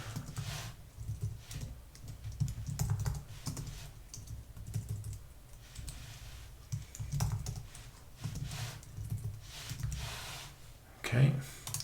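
Quick, quiet typing on a computer keyboard, a fast irregular patter of key clicks in bursts with short pauses, and a soft breath or sniff near the end.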